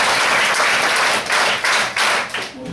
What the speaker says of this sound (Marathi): त्यासाठी आपण टाळ्या वाजवूया